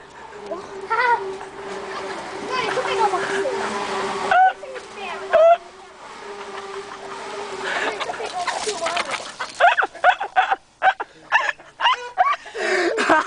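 Chickens cluck and squawk close by, with a rooster-like call among them, while people talk and shout over the birds.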